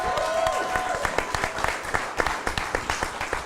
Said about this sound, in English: I want to give a round of applause also to our moderators